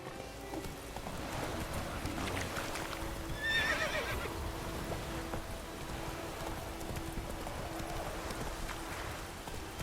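A horse runs in The Witcher 3, its clip-clop hoofbeats steady and fairly quiet, with a short whinny partway through over soft ambient noise.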